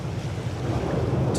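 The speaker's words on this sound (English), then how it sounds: "it's a little breezy out there" Gusty wind blowing at sea off Rhode Island during an offshore fishing tournament, a loud continuous rumbling roar buffeting the microphone, with a faint splash of waves beneath and no voices.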